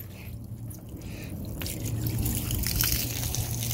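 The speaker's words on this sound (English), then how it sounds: "Gonna turn the water on over here" Water running from a garden hose with no nozzle attached, outdoors while wheel rims are cleaned, a steady continuous splashing flow that grows slightly louder and brighter partway through, with no talking.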